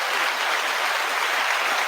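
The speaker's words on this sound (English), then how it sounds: "Good long clap for that." Audience applause at a podcast, a dense steady patter of many clapping hands, loud and continuous throughout with no talk over it.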